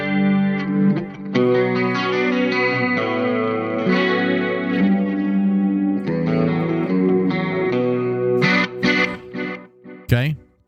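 An electric guitar plays sustained chords and notes through a software amp rack with tape echo and chorus-like modulation, loud and washed in repeats, with short choppy strums near the end.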